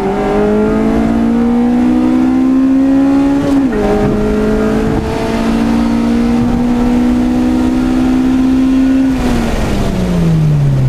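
A 1990s Honda Civic engine revs hard and close, its pitch climbing steadily into VTEC above 5,800 RPM, dipping at two quick shifts and winding up again, with no talking.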